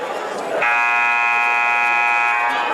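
A loud, sustained electronic buzzer at a high school basketball game blares for about two seconds over a noisy arena crowd, cutting in abruptly after brief crowd murmur.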